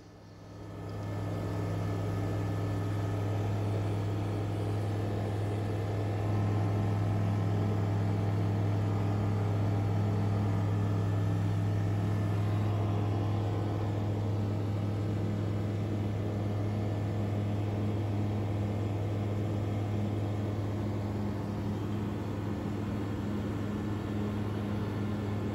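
Cabin of a small plane climbing away from Conway Regional Airport toward 5,500 feet: a loud, steady engine drone with a strong low hum and broad wind noise, unbroken throughout with no talking.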